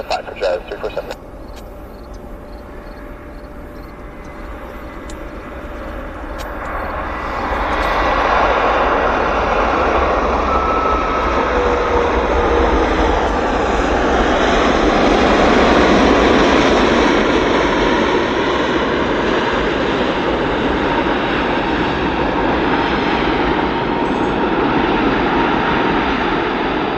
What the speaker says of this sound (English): Another 767 Cargojet.